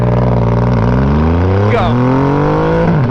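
A Triumph Rocket 2.5 litre motorcycle engine roars close up as it launches hard from about 2,000 RPM, rising steadily in pitch with a brief shift-like dip; a voice speaks one short word at the start.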